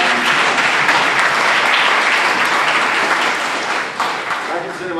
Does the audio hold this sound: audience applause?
yes